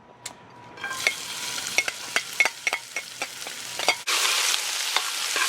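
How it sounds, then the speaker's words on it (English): Onion, garlic and shallot go into about three tablespoons of olive oil in a heavy pot over high heat, with a string of light taps and stirring clatters, then a sudden loud, steady sizzle near the end, close by with no talk. "Got a nice big heavy pot there on a high heat, and there's about 3 tablespoons of olive oil in there."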